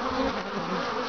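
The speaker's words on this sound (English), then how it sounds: "the bees flying back in are quite large" Honey bees buzz close by in a dense, steady hum, with several wings droning together through the short stretch.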